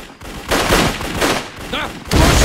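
Bursts of gunfire in the World War II strategy game Codename: Panzers, Phase Two, dense overlapping volleys and explosions rolling in waves with a shouted voice briefly over the din.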